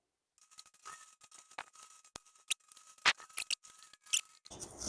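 Scattered snips and crisp cutting clicks as cured expanding foam is trimmed inside a car during a DIY air conditioning install, close and fairly quiet with irregular pauses and a faint steady hum.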